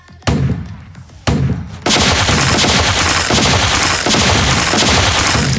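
Gunfire from weapons in the video game Mega Titanes: two sharp separate shots, then a dense, continuous loud burst of rapid fire with crashing impacts filling the rest of the clip.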